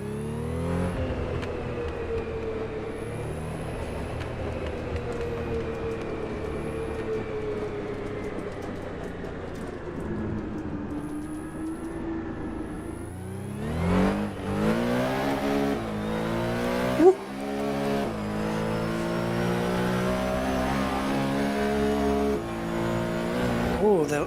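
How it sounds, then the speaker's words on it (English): Racing car engine in the Assetto Corsa Competizione sim game, a steady loud drone that holds for a while, then climbs and drops through several upshifts, with one sharp click in the middle and talk over it. "The reason you don't hear the engine when I go into first gear is because it has the auto clutch"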